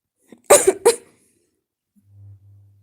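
A few sharp, close coughs from a person with a lingering cough come in a quick cluster of two or three bursts, followed by silence and a faint low hum.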